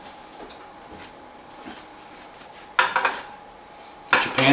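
Metal crepe pan knocked and shifted on a stovetop while making French crepes, faint scattered clinks, then two loud clattering bursts of metal on metal, close and with no voices.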